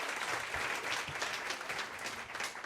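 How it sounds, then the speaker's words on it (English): A comedy club audience applauds a comedian being introduced, a thin, fairly quiet patter of clapping that holds steady for a few seconds without cheering or voices. "That's a bad applause."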